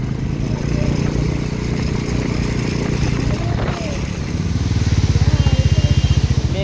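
A motorcycle climbing the monsoon road from Siliguri to Darjeeling through cloud, its engine running close and loud with a throbbing pulse that grows rhythmic near the end, and someone speaking over it.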